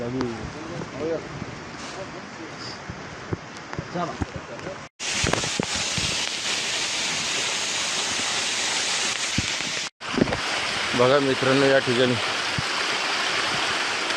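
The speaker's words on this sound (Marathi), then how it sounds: "आता बघू शकता तुम्ही पूर्ण पायऱ्यावर पाणीच पाणी" Water rushes over stone steps on the Kalsubai trek in Maharashtra, a steady close broadband roar that continues throughout, with someone speaking over it at times.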